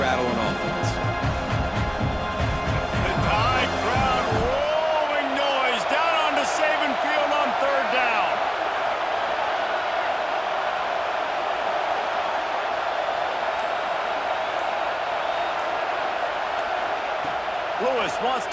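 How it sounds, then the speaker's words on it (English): A video-game Alabama football stadium crowd roars continuously throughout, a loud, dense wall of fan noise behind the broadcast, with game sounds and commentary at the start. "These fans are going absolutely nuts."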